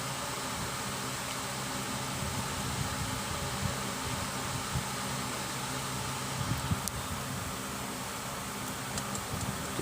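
Honda City i-DSI engine idling with the electrical load on, the blower at full and the AC running: a steady, even mechanical hum and broadband whir with no clear rhythm changes, heard from inside without talk.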